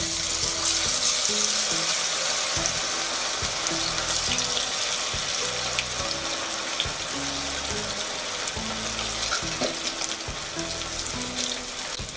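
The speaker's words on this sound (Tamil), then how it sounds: "இப்போ நம்ம எண்ணெயில் இதை நல்லா இப்படி பொரிச்சு எடுத்துக்கலாம்" Battered cauliflower pieces for gobi manchurian deep-fry in hot oil with a continuous bubbling sizzle and dense crackle. The sound stays close and steady throughout, with no talking.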